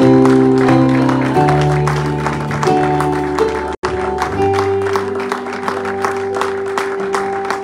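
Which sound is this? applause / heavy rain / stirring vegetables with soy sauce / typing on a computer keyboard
applause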